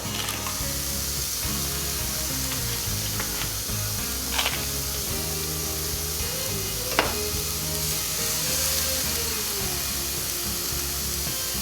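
Frozen Angus beef patties sizzling on a grill, a steady close crackle and hiss throughout with a few sharp pops and light metallic clicks, no talking.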